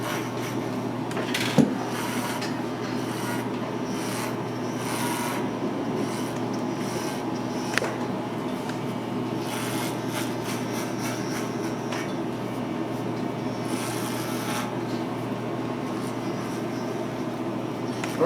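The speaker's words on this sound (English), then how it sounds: "I'm going to begin with the number 2 on top with a standard ball clipper" A standard hair clipper with a number 2 guard cuts hair on top of the head during a low skin fade, giving a steady close buzz for the full length with small clicks and shifts as it moves through the hair.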